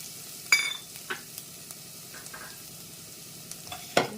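Garlic frying in oil in a pan over medium flame for tomato rasam, a soft steady sizzle with a few sharp spatula taps and scrapes, close and moderately quiet.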